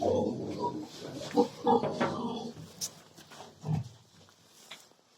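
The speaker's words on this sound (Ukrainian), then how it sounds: "Свині щось б'ються тут." Pigs fighting, a sow mounting a boar, grunting and squealing close by in short, agitated bursts, with scuffling between calls and quieter stretches.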